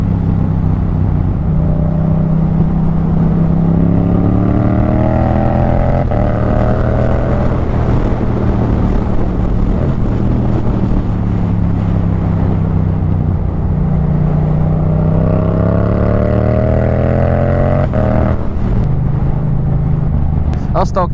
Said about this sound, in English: the sound of my bike is not great, but I love the Boxer engine sound.